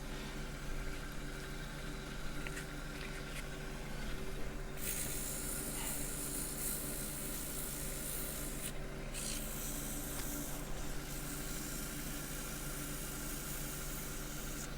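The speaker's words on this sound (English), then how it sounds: "And sand, 180 grit will do the trick." A maple bowl of wet wood is sanded on a lathe with 180 grit, giving a faint, steady rubbing hiss over the hum of the lathe motor, with a few brief brighter scuffs and no talk.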